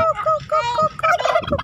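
A turkey gobbles loudly and close at a small mosque mini zoo, a rapid rattling series of warbling calls repeated several times in quick succession.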